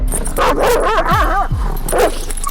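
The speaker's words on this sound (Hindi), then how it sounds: "कुत्ता फिर सतर्क हो गया और भौंकने लगा।" A dog barks and yips several times in quick bursts, close and loud, with a whimpering pitch rising and falling between barks.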